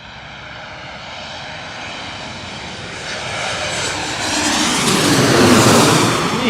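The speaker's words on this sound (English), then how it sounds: "Embraer E190 coming on in. JetBlue from Boston. Here she comes." A JetBlue Embraer E190 jet lands in Queens, New York, arriving from Boston. Its whining, rushing engine roar builds steadily from moderate to loud as it passes close overhead, with no voices.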